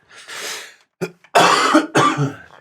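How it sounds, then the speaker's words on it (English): Several harsh coughs in quick succession, close and loud, with brief pauses between bursts and no talking. "Can't stop coughing."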